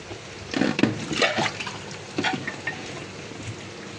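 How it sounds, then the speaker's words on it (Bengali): Water is poured into a pan of well-browned meat curry to make the broth, producing a short burst of splashing and hissing liquid that fades into a low simmer. "এখন আমি ঝোলের পানি দিয়ে দিব এখানে।"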